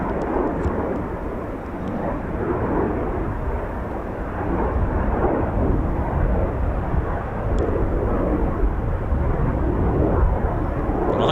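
A Eurofighter Typhoon FGR4 fighter jet making a performance takeoff at RAF Coningsby, a loud, continuous broadband roar that swells slightly and rumbles with wind buffeting, heard from a distance outdoors and with no talking.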